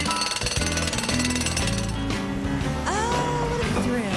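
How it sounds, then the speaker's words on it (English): A large jackhammer-style drill hammers in rapid, loud bursts amid clanking, metallic clinks and street-work clatter, close and continuous over a few seconds. "To hear a great big drill."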